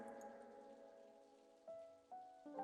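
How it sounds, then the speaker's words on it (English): Steady rain falls in a quiet anime scene, a soft continuous hiss with a few brief louder swells of background tone near the end. "The rain kept falling for a long time."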